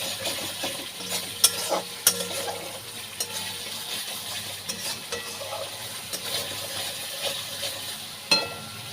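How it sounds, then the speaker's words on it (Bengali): Spice masala sizzles in oil in a pan while being stirred, with frequent scraping and clinking strokes of the utensil over a continuous quiet frying hiss. "মশলাটাকে ভালো করে কষিয়ে নিতে হবে"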